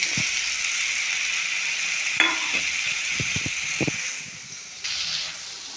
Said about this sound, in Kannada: ಈರುಳ್ಳಿ ಟೊಮೆಟೊ ಮೆಣಸಿಕೆ ಎಲ್ಲ ಫ್ರೈ ಆಗಿದೆ